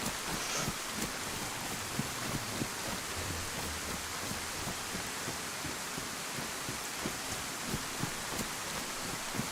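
Steady rain falls in the survival game DayZ, a dense, even hiss filling the whole stretch, with faint low thumps scattered underneath and no talking.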